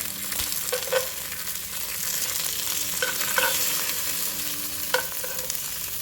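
Dried red chiles, seeded and rinsed, toast and sizzle lightly in a pan, with a soft constant crackle and a few scattered clicks and scrapes of stirring.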